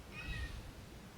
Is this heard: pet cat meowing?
yes